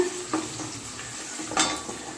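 A large onion stirred in a frying pan for chicken fry, with a soft continuous sizzle and a few light spoon-on-pan clinks, close and without talking.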